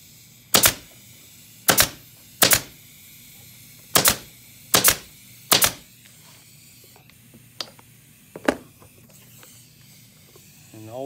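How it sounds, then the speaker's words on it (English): A staple gun fires into upholstery fabric stretched over a wooden night stand: six sharp, loud snaps at irregular intervals, then a few fainter clicks and handling noises. "you'll kind of pull it snug and then staple just off to the side of it"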